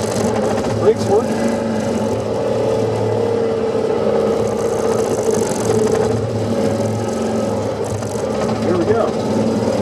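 A BMW Isetta microcar's small engine pulls away in first gear, a steady close drone that holds level throughout, with someone speaking briefly over it.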